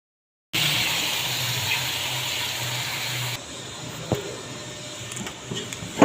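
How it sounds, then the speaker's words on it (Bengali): A little water is poured into a pot of chopped bottle gourd cooking for Bengali lau sukto. A steady, close gushing rush lasts about three seconds, then fades to a quieter simmer with a few soft knocks, with no talking. "অল্প একটু জল দিয়েছি, জাস্ট অল্প"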